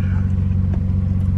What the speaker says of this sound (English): as you guys can tell, the car sounds really healthy.